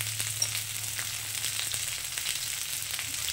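Cumin powder goes into drumsticks and potatoes already frying in oil, giving a soft, steady sizzle with faint stirring clicks and no voices.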